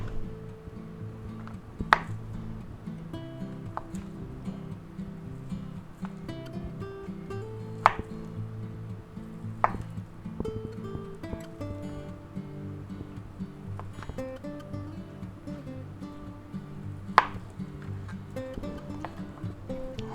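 Kitchen knife cutting food into cubes on a cutting board, a series of sharp isolated knocks scattered over steady background music, close and fairly quiet.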